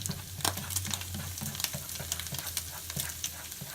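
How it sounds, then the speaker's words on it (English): Cornstarch fries in a pan for gravy, a steady close sizzle broken by repeated scraping and stirring strokes, with no talk. "you put some of that cornstarch up in there and let it burn"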